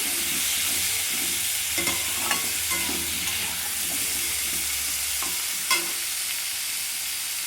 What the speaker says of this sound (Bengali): মশলা দিয়ে ভালো করে ভাজা হয়ে গেছে কষানো হয়ে গেছে